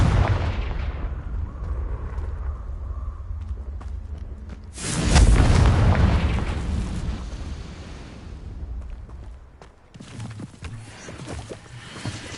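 The Confringo fire spell bursts in Hogwarts Legacy, with a loud whooshing blast and a roaring rumble that fades over a few seconds, then another fiery burst near the end, with no one speaking.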